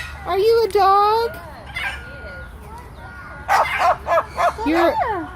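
A pet parrot imitates a dog barking, giving several short, loud, harmonic bark-like calls near the mic in two bursts, with a person talking to the bird in between.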